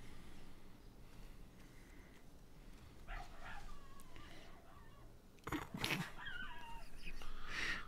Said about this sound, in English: Can you guys hear those dogs, dude?